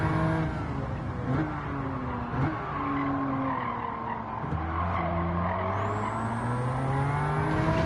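A race car engine in a racing video game revving steadily with pitch rising and falling through gear changes and some tire squeal, loud and continuous throughout.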